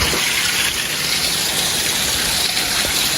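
Water gushing from a roadside mountain stream in the Mocho Mountains hills near Smithville, a loud, continuous close rushing flow with no pauses and no voices.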